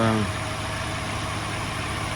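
Car engine on BRC gas injection idling with a steady, slightly vibrating rumble, close and continuous after a brief voice at the start.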